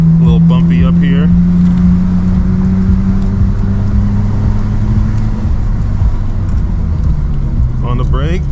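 Nissan R34 GT-R engine climbing a bumpy Mt Fuji hill road, a loud low drone that holds steady, then drops in pitch as the driver brakes and downshifts, with a person talking over it at the start and end.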